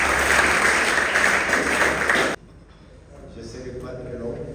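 Crowd applause at a tree-planting ceremony in Ouakam honoring environmental volunteers, a dense wash of clapping that cuts off abruptly midway, followed by quieter room noise and faint voices.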